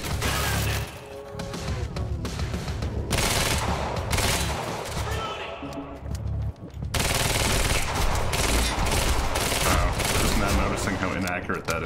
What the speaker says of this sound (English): That is burst fire.